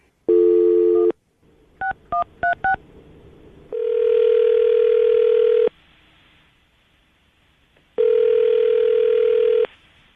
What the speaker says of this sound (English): I'm going to call him now, see if we can get him on the phone